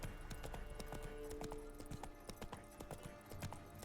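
Roach the horse galloping in The Witcher 3: Wild Hunt, with rapid rhythmic hoofbeats over terrain, steady and fairly close, plus faint background game sounds.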